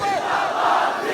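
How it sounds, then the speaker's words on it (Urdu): Large crowd chanting religious slogans in unison at a Tajdar-e-Khatam-e-Nabuwat conference, a loud, dense massed roar of voices sustained for the whole short burst. "ہاں اس طرح نعرے لایا کرو"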